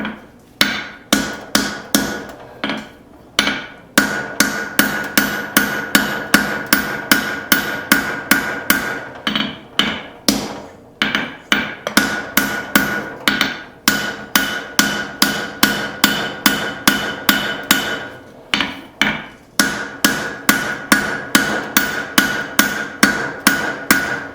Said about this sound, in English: I'm going to be using my straight peen.